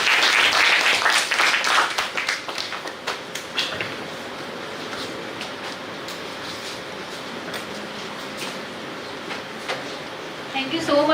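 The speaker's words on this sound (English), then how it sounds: "Clap for yourself too." Conference audience applauding for a few seconds at a neuroscience meeting, loud at first and then thinning into scattered claps and room murmur, with a brief flurry of clapping again at the end.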